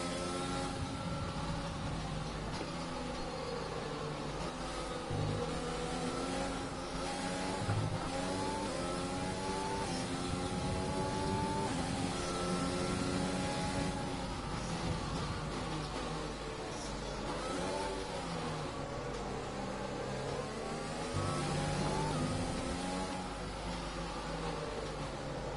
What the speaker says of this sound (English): it is a formation lap